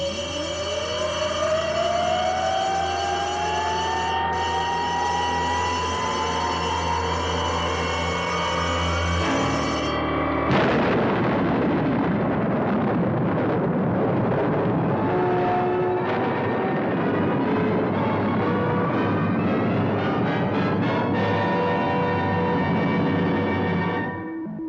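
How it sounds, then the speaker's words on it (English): A rocket launch at ignition opens with rising, whining tones, then a loud, sustained broadband liftoff roar takes over from about midway and carries on steadily to the end, with no voices. "Gee, it sure was exciting seeing that rocket launch, Dr. Beaker."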